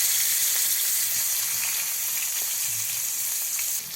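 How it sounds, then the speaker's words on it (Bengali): Fish coated in turmeric, salt and chili frying in hot oil, a loud, steady sizzle that runs without a break close to the pan, with no voices over it. "মাছগুলোকে আগে ভেজে নিচ্ছে, হলুদ লবণ মরিচ দিয়ে মেখে এখন শুধু ভেজে নিচ্ছে।"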